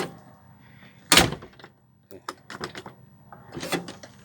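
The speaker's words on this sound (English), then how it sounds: "If I can get another one of these doors, I'll see if I can have two doors that open like this." Vehicle body door being worked open, giving a sharp mechanical clunk near the start followed by several shorter clicks, rattles and latch knocks, with a softer thud near the end; close and fairly loud, with no talking.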